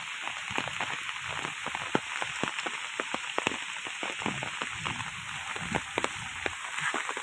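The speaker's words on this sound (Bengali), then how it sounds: "দেখেন একটানা 4 দিন বৃষ্টি, দেখেন বাড়ির আঙ্গিনায় বৃষ্টির পানিয়ে ভরে গেছে।" Steady rain falls on a flooded village courtyard after four days of continuous downpour, a dense, even patter with scattered sharper drips close by and no voices.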